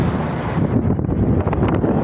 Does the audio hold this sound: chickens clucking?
no